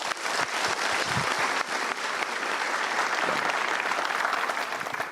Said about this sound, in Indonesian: Good, kita berikan tepuk tangan dulu.